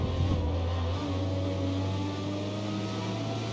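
A car engine in the CarX Street racing game revs with a steady, droning tone as the car pops wheelies, holding a sustained mechanical hum throughout.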